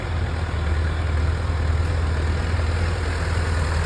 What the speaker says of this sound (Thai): น้องขับรถไถครับ ขับรถไถมาเก็บงานครับ